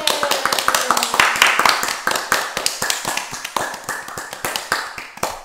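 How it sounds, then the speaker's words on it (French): A crowd at a school Olympic Games closing ceremony claps for the champions, with loud distinct hand claps forming a brisk, somewhat rhythmic pattern close by, and a faint voice briefly underneath. "Let's congratulate and clap for our champions."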